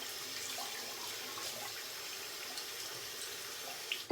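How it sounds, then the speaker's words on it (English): A synthetic shaving brush is rinsed under a running tap, giving a steady, close hiss of flowing water throughout with a brief splash near the end and no talking. "So I'm rinsing my Matti brush out because we're changing soaps."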